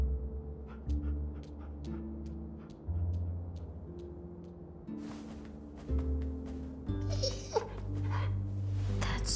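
In The Walking Dead video game, a dog whimpers and yips softly in scattered bursts. The sounds sit over a steady layer of low game music.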